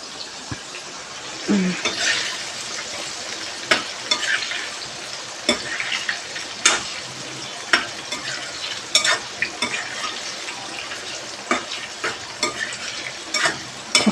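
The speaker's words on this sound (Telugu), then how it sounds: "క్రిస్పీ క్రిస్పీగా లో ఫ్లేమ్లోనే ఫ్రై చేసుకోవాలి" Meal maker pakodi deep-fry in oil over a low flame, a continuous bubbling sizzle broken by frequent stirring clicks and scrapes, close and fairly loud, with no talking.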